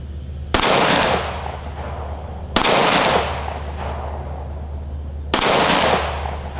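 Three loud, close gunshots from a Taurus G3C pistol fired outdoors, each a sharp crack followed by a long rolling echo, spaced a couple of seconds apart.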